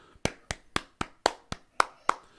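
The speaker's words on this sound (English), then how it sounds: "Little golf clap" Light, sparse golf clap from one person: about eight crisp, evenly spaced hand claps, close and clear, with no talking over them.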